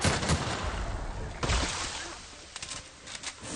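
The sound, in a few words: gunfire from a gun in a video game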